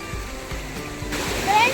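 Water rushing through a lake dam broken by heavy rain, a steady broad outdoor roar of flowing water close by, with someone talking over it.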